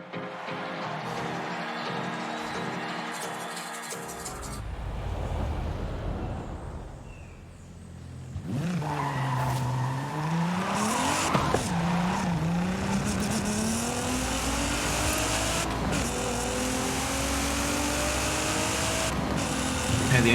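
A Nissan Z with an upgraded exhaust in Forza Horizon 5, its engine revving and accelerating loudly with rising and falling pitch sweeps and shifts, continuous and close after a quieter opening.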